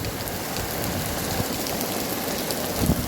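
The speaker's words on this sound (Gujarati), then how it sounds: "વરસાદ બહુ પડે છે જોવો તમે ધબધબાટી બોલાવે છે" Heavy downpour in Mahuva, a dense steady roar of rain beating on surfaces with no let-up, loud and close throughout with no voices.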